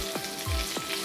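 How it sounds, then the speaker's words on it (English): Pomfret fish frying slowly in hot oil, a steady close sizzle with crackling bursts and a few soft stirring or turning clunks, no voices. "Slowly fry your fish on both the sides with sabar."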